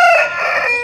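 A 1.5-to-2-year-old Aseel fighting rooster crows once, a short, loud, nasal call heard up close with no other sound around it.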